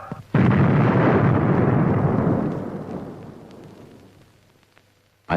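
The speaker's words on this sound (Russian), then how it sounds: "Подземный ядерный взрыв становится созидателем." An underground nuclear test explosion in Yakutia bursts in suddenly with a loud deep roar, then a long rumble that slowly fades over several seconds, with no voices.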